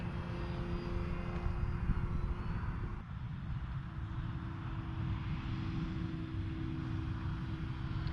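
Arrows RC Tecnam 2010 model airplane flying with its electric propeller motor, a continuous buzzing whine with a slight pitch shift partway through, heard steadily from close by with no voices.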